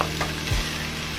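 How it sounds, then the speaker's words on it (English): Onions hit hot grapeseed oil in a pan and set off a close, steady sizzle that holds through the brief moment. "what I have in here already is some grapeseed oil, and it's hot, so I'm going to add my onions to this"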